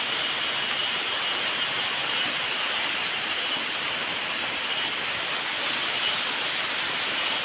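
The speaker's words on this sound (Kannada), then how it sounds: "ಈಗ ಗಾಳಿ ಶುರು ಆಯಿತು, ಲೈಟಾಗಿ ಮಳೆ ಸಹ ಬರಲಿಕ್ಕೆ ಸ್ಟಾರ್ಟ್ ಆಯಿತು" Light rain with wind makes a steady, even hiss of wash that never lets up, close and fairly loud with no voices.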